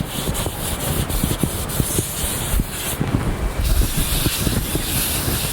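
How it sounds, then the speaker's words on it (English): Brake cleaner sprayed onto a towel and rubbed over a Rover 75 front brake disc to strip protective grease, a steady close hiss with continuous scrubbing and wiping friction. "I'm using brake cleaner, and we're just going to wet this bit of towel, clean all the protective grease."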